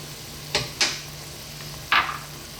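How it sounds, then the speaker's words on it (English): Chopped onion dropped into a hot pot for lamb eggplant tomato stew: three short, sharp sizzling scrapes of stirring over a quiet background hiss, close and alone. "Next up, we're going to drop in that 1 onion."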